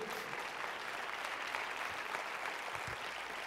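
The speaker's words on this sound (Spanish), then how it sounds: "Denle palmas al Señor." A church congregation applauds for the Lord during a sermon, a steady wash of clapping from many hands that holds at an even level throughout with no voices standing out.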